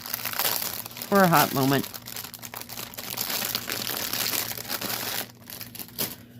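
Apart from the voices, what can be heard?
crinkling packaging of a cross stitch kit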